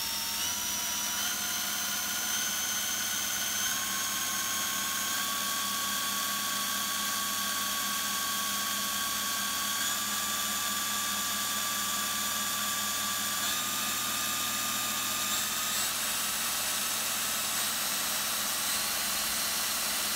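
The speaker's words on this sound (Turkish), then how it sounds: "Bu şarjlı matkap maksimum 1500 RPM dönüyor zaten." A cordless drill spins a homemade alternator with a steady high motor whine that slowly rises in pitch, a continuous mechanical hum underneath, close and unbroken, with no talking.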